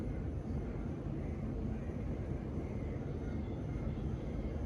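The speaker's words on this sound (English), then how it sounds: "This thing sounds like a tornado when it's on high." Steady, loud whooshing roar of a ceiling fan spinning on its high setting, a continuous low rumbling rush of air with no pauses.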